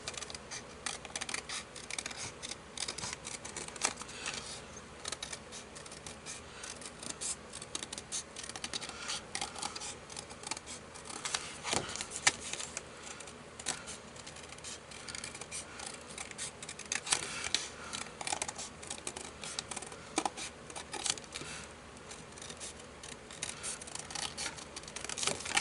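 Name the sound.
scissors cutting out a paper circle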